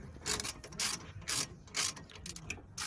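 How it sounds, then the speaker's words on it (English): A ratchet fitted with a T45 bit works loose the brake caliper guide pins on a Toyota Yaris with a seized front caliper, giving several rhythmic bursts of close metallic clicking separated by short pauses. "So we are using T45 to loosen the caliper guide pins"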